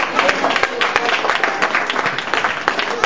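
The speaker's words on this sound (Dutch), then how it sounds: "Ik wil graag een groot applaus voor de MC's." A crowd applauds steadily, dense clapping filling the whole stretch at a fairly loud, even level without a break.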